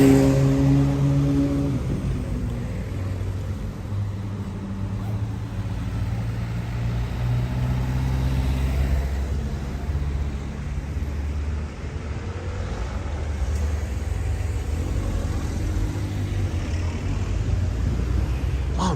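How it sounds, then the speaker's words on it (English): City traffic in Menton, France, a steady wash of passing cars and engines with a few deeper vehicle tones rising and fading, heard from the street at a moderate level with no talking. "There's a lot of cars passing through."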